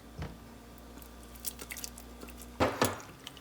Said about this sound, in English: I'm just going to finish by adding the crab legs